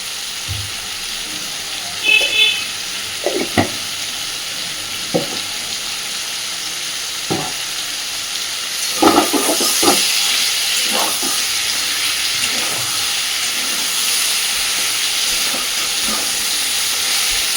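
Ridge gourd and potato frying in a pan, a loud continuous sizzle with occasional clinks and scrapes of stirring, the hiss growing slightly brighter toward the end.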